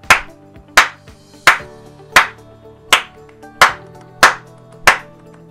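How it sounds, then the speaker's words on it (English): Hand claps ring out eight times in two sets of four during an online latency test, each sharp, loud and alone, evenly spaced with a clear decay between. "I'm going to clap four times and then you clap on the next four"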